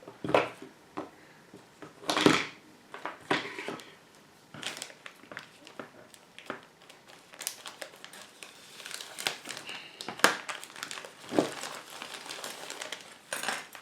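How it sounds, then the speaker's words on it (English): Crinkly plastic bag holding Hobby Boss 1/72 Ju-87A Stuka model kit parts being opened, rustling and crackling in irregular bursts, close up, with occasional soft knocks and handling noises, no talking. "we're gonna open that plastic bag and see what we have"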